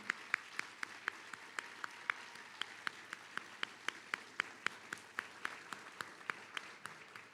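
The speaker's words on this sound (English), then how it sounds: "Can we start by offering a round of applause for our young musicians, students in the rock music program" Scattered applause from a small audience at a city State of the City address, honoring young students of a rock music program; quiet, evenly spaced claps from a few hands, heard alone.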